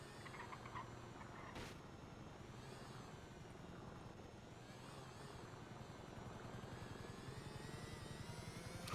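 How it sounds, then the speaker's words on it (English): A police helicopter, Air One, passes overhead with a steady rhythmic rotor chop and engine whine, holding at a moderate distance and swelling slightly louder toward the end, with no talking. "I hear a helicopter."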